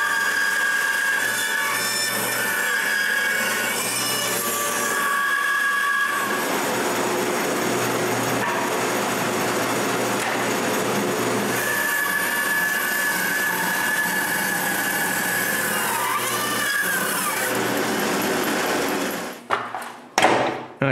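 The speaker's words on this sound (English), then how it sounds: "Next, I cut the excess wood." A power saw cutting the excess wood off a round wooden plate blank drones loudly and steadily for nearly twenty seconds, its pitch wavering as the blade bites, then winds down into a few knocks.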